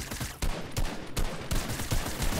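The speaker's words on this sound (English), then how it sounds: "I'll shoot with that SMG, right?" SMG fire in the video game Fortnite, a few loud, close, sharp shots in an irregular quick rhythm over dense background game noise, without talking.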